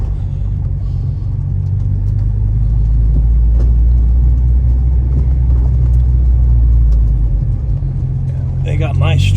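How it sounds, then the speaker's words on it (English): An Acura RSX Type S runs on the road with a steady, deep, low engine rumble and road drone throughout, close up from inside the car, with faint clicks near the end. "We're gonna go for a ride, and you guys can hear how the car sounds."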